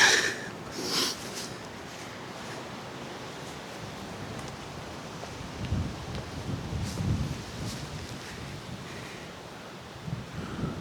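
Wind gusts steadily past a big looming castle wall above a misty coast at Ardrossan, Scotland, a constant loud rushing and buffeting with low rumbles and no speech.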